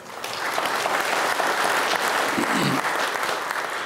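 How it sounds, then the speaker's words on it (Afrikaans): A congregation applauds couples celebrating their wedding anniversaries, a warm burst of steady hand clapping from a crowd that fills the room and holds for several seconds. "Kom ons gee vir hulle 'n lekker hande klap."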